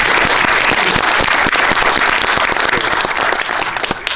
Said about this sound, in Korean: 두 분에 큰 박수 부탁드립니다